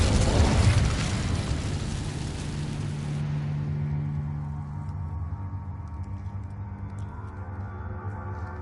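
Incendio fire spell in Hogwarts Legacy, a loud fiery burst that erupts at the start and rumbles on, then decays into a low steady hum with faint crackles.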